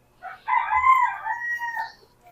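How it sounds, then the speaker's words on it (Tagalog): A rooster crows once, a loud, drawn-out call rising then trailing off, standing alone and fairly close. "Tumunog yung manok."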